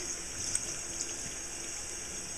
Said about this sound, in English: I'm going to go ahead and rinse it out as good as I can.